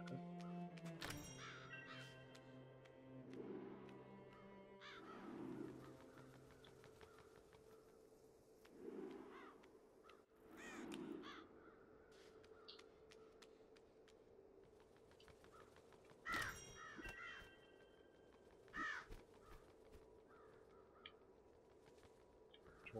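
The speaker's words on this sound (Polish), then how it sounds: "rozumiem, że tylko kraczą" Crows caw in the video game Child of Light, several harsh calls spread across a quiet scene along with wing flaps and soft game ambience, fairly faint overall and with no talking.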